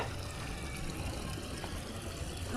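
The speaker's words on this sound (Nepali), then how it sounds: "यस्तै हो पानी लाउने तरिका" Irrigation water pumped by an electric machine from groundwater flows steadily in a soft, continuous trickle, fairly faint and unbroken, with no voices.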